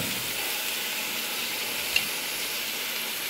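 Vegetables fry in a pan for a winter salad, giving a steady, even sizzle and hiss close by with one small pop and no talking.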